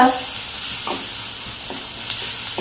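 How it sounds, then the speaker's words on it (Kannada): Onions fry in a hot pan for a home-style paneer ghee roast, giving a loud continuous sizzle broken by a few scraping stirs of a utensil, with no voices. "ಈರುಳ್ಳಿ ಫ್ರೈ ಆಗ್ತಾ ಬಂತು, ಕಲರ್ ಚೇಂಜ್ ಆಗಿದೆ"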